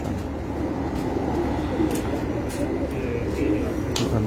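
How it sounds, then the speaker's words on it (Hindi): Pigeons cooing on a rooftop where racing pigeons are kept, a steady low murmur of coos, close and continuous, with a faint background rumble. "ये सुलारा कबूतर है जी मेरा माशाल्लाह।"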